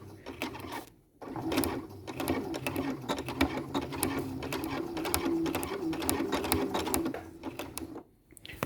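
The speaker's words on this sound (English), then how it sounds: "stitch, stitch, stitch, stitch, zigzag, stitch, stitch, stitch, stitch" A sewing machine stitches a zigzag seam on fabric for a skirt with pockets. It makes a steady mechanical whir with rapid needle ticking for about seven seconds, with brief pauses near the start and end.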